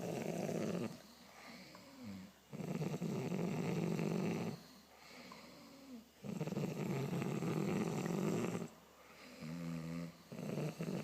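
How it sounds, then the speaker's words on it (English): Loud, close snoring from a sleeping mother, repeating in long rasping breaths roughly every three to four seconds with short quiet gaps between, heard alone without talk. "You're snoring too, Dad."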